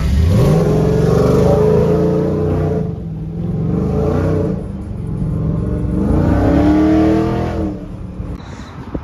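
A car cruising toward downtown San Antonio, its engine revving repeatedly with rising pitch sweeps over a steady driving roar, loud and close with no talk.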